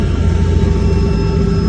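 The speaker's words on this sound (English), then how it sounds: "it's a little bit hard to hear over that helicopter" A helicopter flying overhead in South Africa gives a loud, dense rumble that fills the short stretch without letting up.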